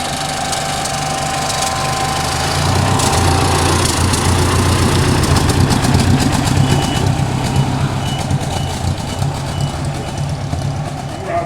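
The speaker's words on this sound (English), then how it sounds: "Harding in his 1922 Ford Model T Roadster" A 1922 Ford Model T Roadster drives past on a veteran and vintage car run, its engine a loud, steady rumble that swells midway, with broadband road and crowd noise throughout.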